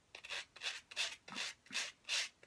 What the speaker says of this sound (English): what I do is just use a little sanding block